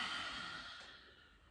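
A slow exhale out through the mouth during a vinyasa yoga flow, a soft, breathy sigh that gradually fades over about a second and a half, close and alone.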